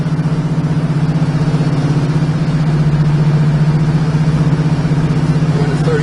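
A 1969 Chevrolet Camaro convertible with a 350 V8 drives along, its engine giving a steady, close, throbbing drone with no talk over it.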